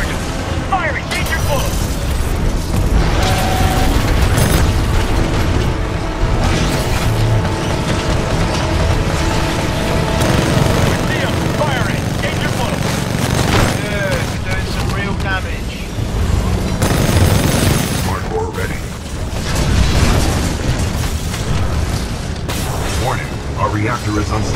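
Weapons fire and explosions in the Titanfall 2 campaign boom and rattle in loud bursts, with mechanical clanks between blasts and game voices calling out over the action.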